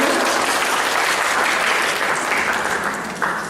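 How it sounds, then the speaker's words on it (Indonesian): A seated audience at a film screening and discussion event breaks into dense, steady applause for a speaker, holding strong for several seconds before tapering slightly. "Mohon beri tepuk tangan untuk Bapak Wahyu."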